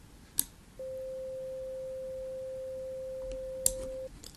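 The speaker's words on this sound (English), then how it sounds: "Now if I play a tone further down the scale, even around 500" A pure, steady mid-pitched sine test tone holds at constant volume for about three seconds, alone over a quiet background with a couple of faint clicks before and after.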